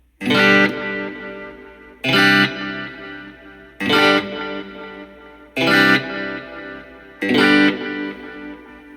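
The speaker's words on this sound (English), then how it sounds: "now we're going to go from the digital to the tape delay." A Wampler Catacombs delay and reverb pedal set to tape delay processes five evenly spaced strummed electric guitar chords, each ringing loud and fading with a warm repeating decay before the next.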